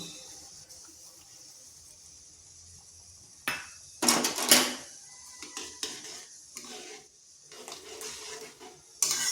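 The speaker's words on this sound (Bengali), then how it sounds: "জলের সাথে ভালো করে মিশিয়ে নিচ্ছি" A spoon scrapes and knocks against a pot as semolina is stirred into boiling water with sugar and salt, producing soft irregular clinks and a few sharper clatters over faint kitchen background.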